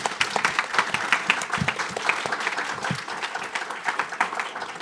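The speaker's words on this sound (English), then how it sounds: "Round of applause for our incredible panel." An audience applauds an education panel at a civic event, brisk crowded clapping with distinct close claps popping out, steady and fairly loud from start to finish.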